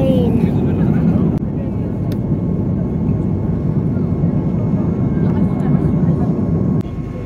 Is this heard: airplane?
yes